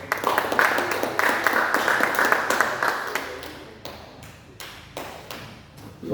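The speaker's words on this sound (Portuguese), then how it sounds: "Você pode aplaudir o Senhor bem forte" A church congregation claps during a worship service, a loud wash of applause with sharp individual claps that thins out and fades toward the end.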